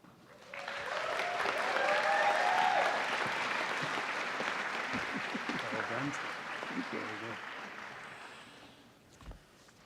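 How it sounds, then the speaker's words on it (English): A university commencement audience breaks into sustained applause that swells, holds and then tapers off, with voices faintly mixed in beneath the clapping. "Let's give him another round of applause, please."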